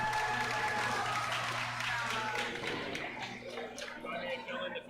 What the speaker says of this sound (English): Let's give a round of applause for both of our robots.